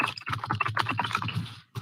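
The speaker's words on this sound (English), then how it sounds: "That's not me that typing." Rapid clicks of typing on a computer keyboard, close and fairly loud, in a quick irregular run that stops briefly near the end before resuming.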